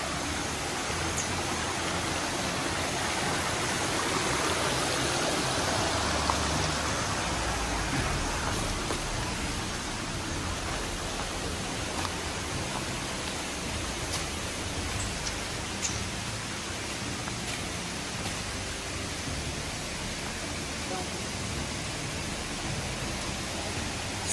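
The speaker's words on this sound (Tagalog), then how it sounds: "medyo malakas yung alon ng tubig" Strong flowing river water in a Cagayan forest after a typhoon, a constant dense rushing wash of water with no pauses, steady and fairly loud throughout.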